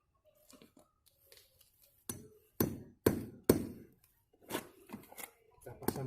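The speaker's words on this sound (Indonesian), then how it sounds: "Jadi tinggal dipaku saja dengan paku ini" Nails are driven with a hammer in a series of sharp, close knocks, sparse at first and then several firm strikes, with quiet rustling between.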